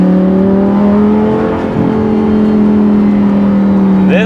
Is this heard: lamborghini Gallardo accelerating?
yes